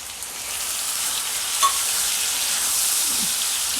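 Tomato puree stirred and frying in a pan with brinjal filling for Vidarbha-style stuffed eggplant, a steady bright sizzle with soft stirring scrapes, close and continuous, with no talking.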